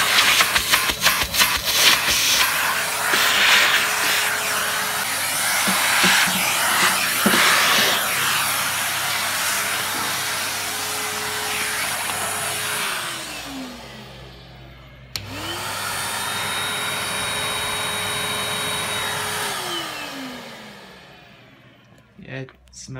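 A Numatic vacuum cleaner, fitted with no bag, whines steadily and loudly, is switched off and winds down, then starts up again and runs before spinning down once more. A voice talks briefly over the motor.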